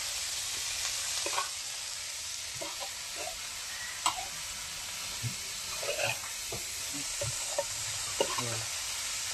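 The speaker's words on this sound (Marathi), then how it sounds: "मीठ वगैरे टाकून घेतला आणि आता मस्त पलटून घेऊ ह्याला" A spoon stirs and turns vegetable curry frying in a pan. Scraping, clattering strokes come at irregular intervals over a continuous soft sizzle, and no one speaks.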